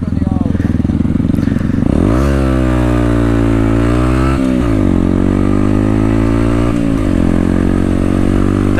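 A Honda Grom motorcycle with a swapped aftermarket muffler and a Power Commander revs loudly and close, its engine pitch sweeping up and down through several throttle blips while a person talks over it.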